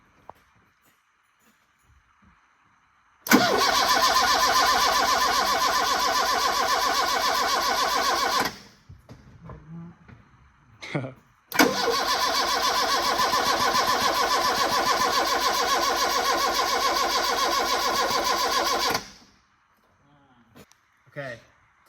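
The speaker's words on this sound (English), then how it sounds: "It's gonna be the first start of my turbo build." A 1983 Pininfarina Spider with a turbo build cranks on the starter in two long, loud bursts of steady whirring, each several seconds, separated by brief clatter and handling noise, with no catch into running.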